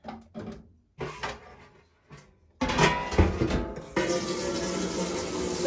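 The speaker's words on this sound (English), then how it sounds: "So we're going to fill it up with water." Hot tap water running into a pot used for dyeing yarn, starting after a few short knocks and clatters and then pouring steadily and loudly to the end, with no talk.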